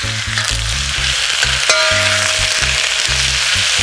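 Oyster mushrooms hitting a hot pan with dried shrimp over high heat, a loud close sizzle with rapid stirring and a sharp clang of utensil on metal, along with a low rhythmic hum in the background.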